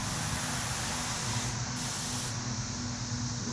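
A spray gun applies Cerakote coating to a Glock pistol, a steady close hiss of atomized spray running continuously with a brief change in tone partway through, no talking.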